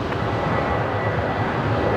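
A Velocity jet departing Brisbane Airport at night, its engine roar a steady, broad rumble sustained throughout at moderate distance, with no talk over it.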